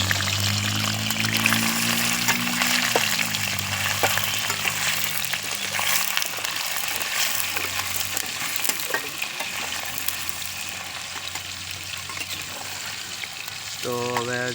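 Water is poured into hot oil in a pan while cooking paneer curry, setting off a loud, continuous sizzle and crackle that holds steady throughout, with brief faint clinks near the end.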